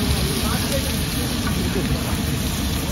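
Cumin seeds and bay leaves sizzling in hot oil at a busy street food stall making chole kulche, a loud continuous hiss under a noisy background.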